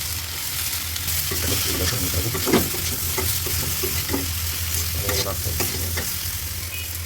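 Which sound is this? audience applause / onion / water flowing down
onion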